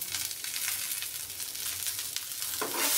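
Soaked peanuts sautéed with salt in a pan, a brief close sizzle with stirring scrapes that brighten near the end.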